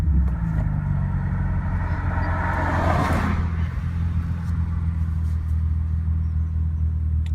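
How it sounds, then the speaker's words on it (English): Infiniti G35 coupe with a manual clutch starts up: a crank and catch around three seconds in, then a steady, close, loud engine rumble settling into idle, with no talking. "we'll do a cold start for you"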